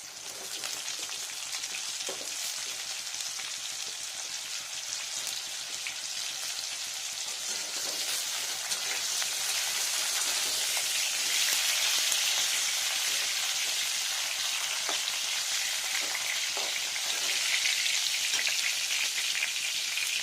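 Raw green banana frying in a pan of oil for a vegetarian Bengali shukto, a dense, steady sizzle and crackle that holds for the full twenty seconds, close and with no voices.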